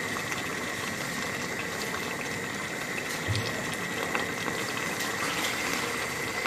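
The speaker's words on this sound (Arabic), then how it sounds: "نزيدوها شوية ماء، نخلوها شوية ونزيدوهم شوية ماء" Water is added to a soup simmering in a pot, giving a steady bubbling, liquid wash throughout with a few faint clinks near the middle and no speech.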